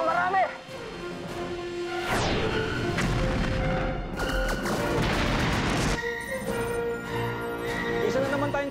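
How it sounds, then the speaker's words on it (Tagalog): A fighter ship explodes in a space battle amid a tokusatsu action scene, heavy booms and crashing blasts layered with dramatic score and sweeping effects, loud and dense throughout. "Isa na naman tayong fighter ship na sumabog."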